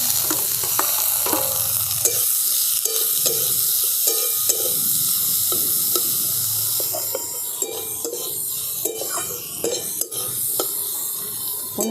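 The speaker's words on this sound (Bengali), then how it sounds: "পনিরের টুকরোগুলো দিয়েও আমি একটুখানি নেড়ে নিয়েছি" Paneer pieces are stir-fried with onions and carrots in a hot pan: a constant loud sizzle runs throughout, punctuated by repeated sharp spatula scrapes and clinks, with no talking.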